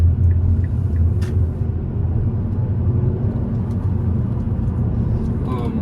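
Steady low engine rumble and road noise fill the cabin of a car driving with its air conditioning running, continuous throughout with a faint brief click or two.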